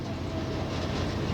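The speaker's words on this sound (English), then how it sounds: "We're leaving Golden, British Columbia on the very first ECP Wireline Distributed Power train." A CP Rail coal freight train with ECP wireline distributed power, departing Golden, British Columbia, rumbles loudly and steadily, heard close from on board with a continuous low roar and no break.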